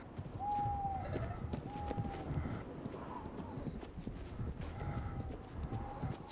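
Steady clip-clop of horse hooves trotting along in a horse-riding video game, with a few brief whinny-like tones over a busy, continuous background.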